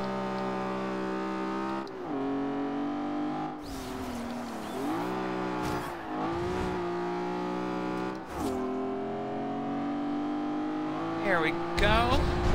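A race car in Forza Horizon 2 drives hard with a loud, steady engine drone that rises and falls through gear shifts, with a brief voice speaking over it.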